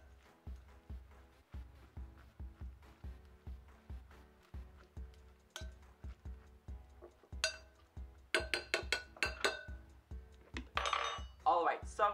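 A spoon stirring popcorn mixed with ranch and butter in a bowl, giving regular clinking, scraping strokes that start soft and grow louder and busier toward the end.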